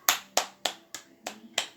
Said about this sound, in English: it's quite sad to be applauding virtual players